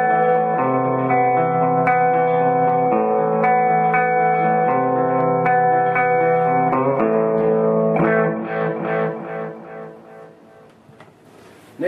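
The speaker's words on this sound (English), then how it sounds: "lo-fi delay is a kind of a nasty sounding delay. It kind of mimics the way classic 8-bit delay sounded when the first digital delays came out" Electric guitar through a TC Electronic Flashback pedal set to lo-fi delay, sustained chords and notes repeating in gritty, degraded echoes that grow busier and trail off toward the end.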